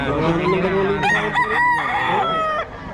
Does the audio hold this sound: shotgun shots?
no